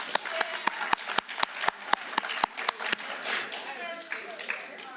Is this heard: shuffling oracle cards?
no